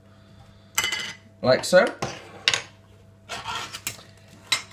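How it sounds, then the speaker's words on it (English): Metal lids come off roasting tins with several separate scraping clanks and clatters spread across a few seconds, and a voice speaks briefly between them. "all I'm going to do now is remove the lids"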